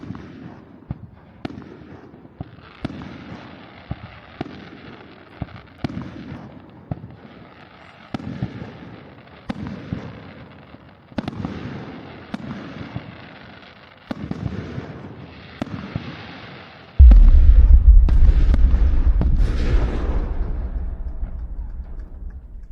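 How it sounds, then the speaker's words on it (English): Fireworks burst over a campsite in Hokkaido in a long run of sharp, booming cracks spaced a second or two apart, then a dense, loud rumbling barrage near the end, all without speech. "I feel it is worth it just to see the fireworks"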